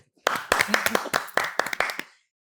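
An audience claps for Naeem Adeeb on a Pakistani TV show, loud, close, irregular claps for about two seconds that start suddenly and die away.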